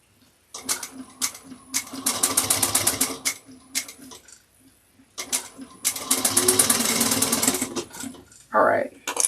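Sewing machine back stitching around the edges of a fabric bag, running in fast rattling bursts of several seconds separated by short pauses, close and fairly loud, with a brief voice at the end.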